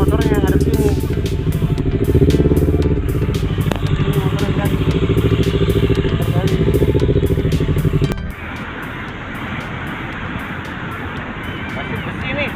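A touring motorcycle on a trip to Lombok idles loud and close with a steady rumbling drone that drops away sharply partway through, leaving lighter background noise; people talk over it.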